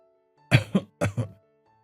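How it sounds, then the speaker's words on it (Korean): Two short pairs of dry coughs, close up, each pair quick and rough like a small throat-clearing cough, separated by a brief pause. "그날 저는 추운 날씨 탓인지 잔기침을 하고 있었습니다."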